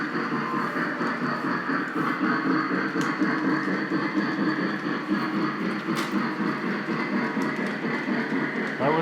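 A model train set in a basement runs around its track with a continuous rattling, clicking rumble at an even level, close by, without clear talk over it.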